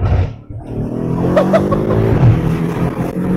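A BMW M5 Competition accelerates hard, its engine note climbing in a loud, close roar over a few seconds after a brief dip, with no talking.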